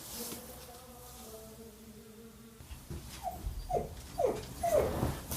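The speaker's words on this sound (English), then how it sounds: "now the dog's whining to go with my husband" A dog whines indoors, a few high rising whimpers in quick succession growing louder toward the end, following a quieter stretch of low background hum.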